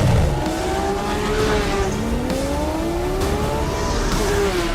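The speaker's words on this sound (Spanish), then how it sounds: "Era un 10 cilindros, un V10." A Porsche museum race car with a 612-horsepower V10 engine and ceramic brakes revs loudly and steadily, its engine tone rising and falling in sweeping pitch changes, heard close and alone without talk.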